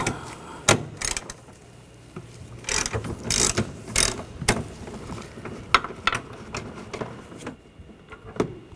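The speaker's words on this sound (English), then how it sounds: "I'm going to use a E18 socket. Take this bolt out." A ratchet fitted with an E18 socket loosens a bolt on a 2009-2013 BMW 328i xDrive 3.0L L6 during master cylinder work, giving several short bursts of close, loud clicking separated by pauses.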